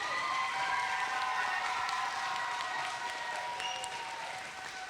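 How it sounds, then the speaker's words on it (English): Sustained applause from an audience honoring fourth-grade teacher Silvia Miranda at a New Mexico education ceremony: dense, steady clapping from many hands that thins and fades slightly toward the end. "let's give her a big round of applause"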